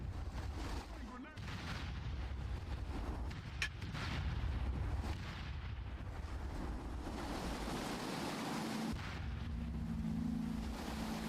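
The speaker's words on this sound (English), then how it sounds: "Throwing grenade!" Grenade explosions in the video game SOCOM II, heavy booming blasts with rumbling, gusty noise between them, fairly loud throughout.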